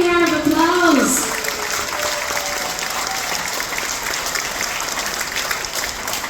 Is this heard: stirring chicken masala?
no